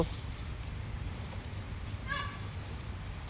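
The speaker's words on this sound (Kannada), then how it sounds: "ನಿನ್ನ ಪಕ್ಕದಲ್ಲಿರೋ ಕೇಜಲ್ಲಿ ಕೂಗ್ತಾ ಇದ್ದಾವೆ ನವಿಲುಗಳು" Peacocks in a neighbouring cage at a Davanagere zoo give one loud honking call partway through, heard at a moderate distance over a constant background hum of open-air ambience.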